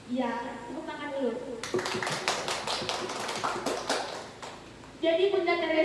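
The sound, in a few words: applause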